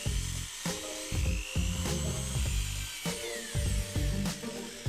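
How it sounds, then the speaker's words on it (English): A drill bores into a plastic shifter block from a Mitsubishi i-MiEV electric car, running in several short high-pitched bursts with brief pauses between them, close and fairly loud. "It's nothing more than a chunk of plastic, so drill it out."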